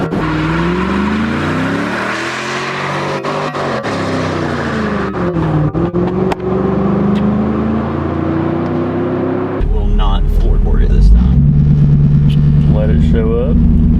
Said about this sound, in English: Not exactly a 60-foot test, but mighty nice burnout